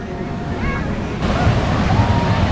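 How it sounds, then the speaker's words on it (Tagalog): Ocean surf rolls in at La Union, Philippines, a steady roar that swells louder partway through as a wave breaks, with wind buffeting the microphone. "Wave yan, wave."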